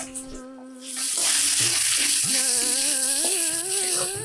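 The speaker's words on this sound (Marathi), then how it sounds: "कांदा चांगला लाल होईपर्यंत परतून घ्यायचा" Chopped onion sautéing in oil in a kadhai for a dhaba-style spinach dish: a loud, continuous sizzle and hiss that swells after a quiet start, with stirring scrapes and some tonal ringing layered over the frying.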